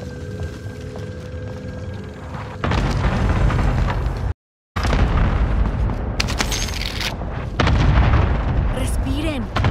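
Video game battle on an island with dense gunfire and booming explosions, loud and continuous, cut by a brief dropout, with a voice speaking over the action.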